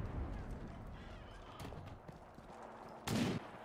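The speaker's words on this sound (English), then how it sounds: "I'm being shot." Gunfire aimed at the player in the World War II shooter Enlisted, set in a Tunisia campaign: a faint distant shot or two, then one loud sharp crack near the end over quiet rustling ambience.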